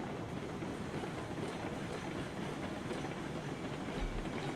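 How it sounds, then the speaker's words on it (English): Steady rumble of a locomotive hauling big freight cars in the RailRoads Online game, a constant rolling drone with faint clickety-clack and no talk. "This loco should handle the speed for the size of the run decent."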